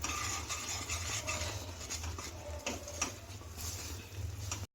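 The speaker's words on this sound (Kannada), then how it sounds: "ತುಪ್ಪನ ಹಾಕೊಂಡ್ಮೇಲೆ ನೀಟಾಗಿ ಮಿಕ್ಸ್ ಮಾಡ್ಕೊಳ್ಳೋಣ." Coconut burfi mixture of grated coconut and gram flour with ghee stirred in a pan, a quiet continuous scraping and shuffling with faint ticks of the spoon against metal.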